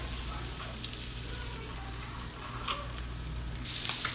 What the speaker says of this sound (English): Got some butter, and I think we put Old Bay in there, and then we're just gonna saute these babies up